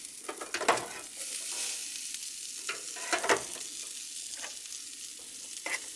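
Food stirred in a pan with a regular fork at a campsite in the New Jersey Pine Barrens in December, steady sizzle under irregular metallic scrapes and clicks of the fork against the pan.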